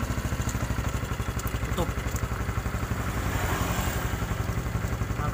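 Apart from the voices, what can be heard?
Honda Supra X 125 motorcycle engine revving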